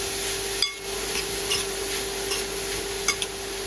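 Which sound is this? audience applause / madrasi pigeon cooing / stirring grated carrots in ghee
stirring grated carrots in ghee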